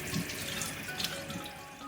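Running tap water splashes steadily over a large pork hock being rinsed in a sink, a continuous close hiss with small uneven splatters and no talk.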